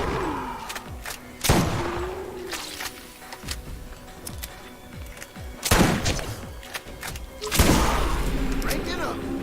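A scoped shotgun in the shooter Borderlands, a handful of loud, sharp blasts spaced a few seconds apart with thuds and clanks between them, while a person talks in the background.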